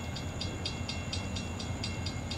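A northbound CSX GP40-2 locomotive and slug set rolls past at Goldsboro as a steady, moderately distant rumble, with regular metallic clacks from the wheels throughout.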